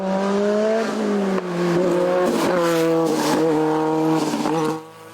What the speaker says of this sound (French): pour Christophe Poissignon, sa Simca CG Turbo ne rendant pas son plein rendement à cause d'un problème de collier de turbo